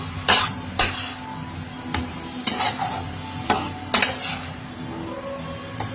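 Prawns that were fried earlier are stirred into a cooked-down masala in a pan, with a steady sizzle underneath. A spoon scrapes and knocks against the pan in sharp, irregular strokes, close and loud, and nobody speaks.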